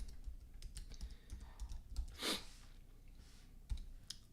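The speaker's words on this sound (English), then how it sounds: "Let me just type this for you guys." Someone types on a computer keyboard during a live stream: quiet, scattered key clicks and taps close to the microphone, with no speech.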